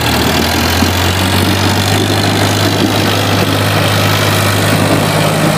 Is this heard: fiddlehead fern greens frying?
no